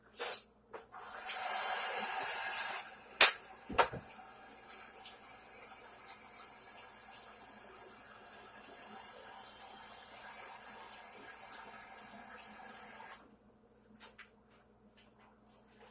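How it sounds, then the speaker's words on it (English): Tap water runs steadily into a sink during hand washing in a home kitchen, a hiss lasting about ten seconds after a few clunks, then turning off. "Wash my hands."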